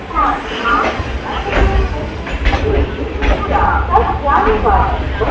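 Train pulling into Kumbla railway station on the Mangaluru Central to Thiruvananthapuram Central run, a steady low rumble of rolling carriages with intermittent clatter, heard under continuous nearby talk.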